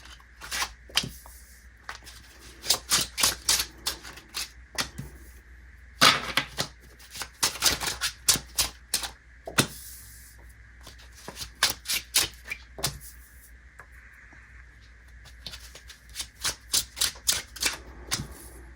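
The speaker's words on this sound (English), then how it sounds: "Some people like that sound of hearing them shuffle and ruffle." Tarot cards being shuffled up close, in clusters of sharp, rapid riffling clicks and flutters separated by short quiet pauses, with no voices.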